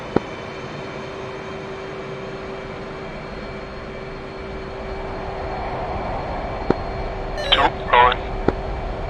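A jet in the DCS flight simulator rolls for takeoff at Nellis, a steady engine hum and hiss that slowly swells, broken by a few brief clicks and short radio-like beeps near the end.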